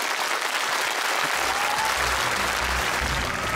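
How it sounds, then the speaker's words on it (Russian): TV studio audience applauding on a talent show, a steady full burst of clapping that fills the room from start to finish with no talk over it. "Аплодисменты Арвидасу."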